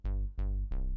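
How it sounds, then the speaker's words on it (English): Electro Ceramic Bass synth patch in Ableton, three deep plucked bass notes evenly spaced, each with a bright attack that decays quickly, loud and close with no voices. "upper bass sound. There's a patch called Electro Ceramic Bass."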